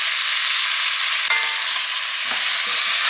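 Garlic cloves frying in oil in a pan, a loud, bright, continuous hiss close up, broken by a sharp clack and a few soft scraping stirs near the end.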